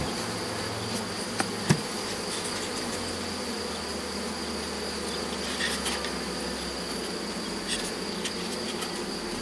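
Honeybees buzz steadily around frames of a Miniplus hive, a dense continuous hum close by with a few brief sharper clicks of frame handling, no voices.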